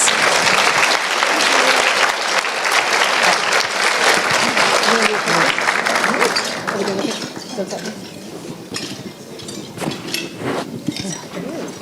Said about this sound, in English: Let's give Debra a big round of applause.